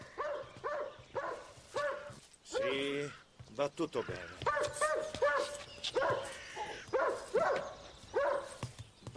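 A tenants' dog chained on a rental property gives short barks and whimpers, close by, while someone speaks to it calmly throughout.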